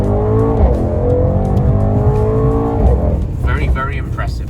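Mercedes-AMG GT 63S accelerating hard from a standstill, a loud steady engine roar climbing in pitch with a gear change near the end, close and continuous.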